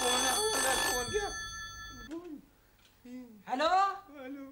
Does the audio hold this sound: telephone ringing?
yes